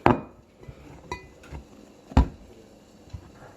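A shaped log of bread dough set into a greased metal loaf pan, a few light clinks and taps from the pan, with one sharper knock partway through, close and fairly quiet.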